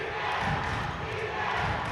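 Steady, dense crowd noise fills a high school boys basketball gym during a home comeback, a continuous roar of cheering voices with no breaks across the moment.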